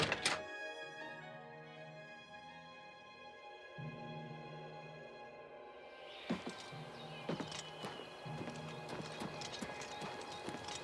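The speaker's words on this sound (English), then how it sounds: "You won't find a better chestnut horse anywhere in Cyrodiil." Hooves of a chestnut horse clip-clopping at a stable in the video game Oblivion Remastered on PS5, a steady run of light hoof knocks over sustained in-game music tones.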